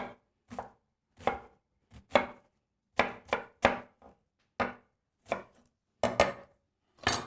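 Knife coarsely chopping onion on a board, about a dozen crisp close chops in an uneven rhythm with short pauses, no talking.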